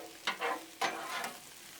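Food frying and being stirred on a Blackstone griddle, with two scraping, sizzling strokes close up over a steady hiss.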